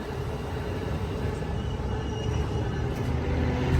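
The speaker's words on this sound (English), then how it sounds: "this is Amtrak 527 going to San Jose" Low rumbling of an Amtrak Capitol Corridor passenger train hauled by a Siemens Charger locomotive arriving at the Oakland Coliseum station, a steady close broadband roar with no talking.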